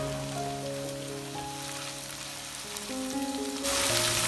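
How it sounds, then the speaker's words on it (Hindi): Garlic ginger paste frying in oil for an aloo chicken roll, a steady close sizzle crackling throughout with faint tonal hum beneath, growing brighter and louder near the end. "1 टीस्पून हम इसमें लहसुन अदरक का पेस्ट डालेंगे और इसको हल्का सा भूनेंगे।"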